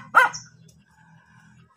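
A single sharp bark from a nearby dog, followed by near-quiet with a low hum, then the start of another bark at the very end.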